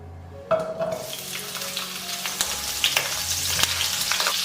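Ginger, scallion and garlic hit hot oil in a wok, bursting into a loud close sizzle that keeps crackling steadily, with occasional clicks of stirring.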